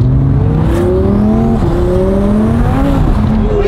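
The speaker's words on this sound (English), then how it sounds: "Did you just spin all four wheels? You just spun an R8." A twin-turbo Audi R8 spins all four wheels under hard acceleration, its engine droning loud and steady with rising pitch sweeps and a constant roar of tire noise throughout.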